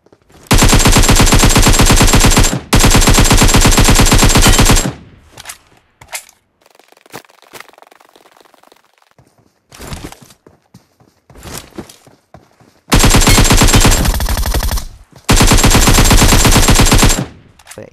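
AKM rifle in PUBG Mobile Metro Royale firing loud sustained automatic bursts, two long volleys, then scattered shorter shots, then two more long bursts, with no talk.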